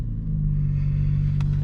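A car, either a MK5 Golf or a V35 Skyline, idles steadily right after a hard start, a close, loud low rumble holding an even hum with a faint tick near the end.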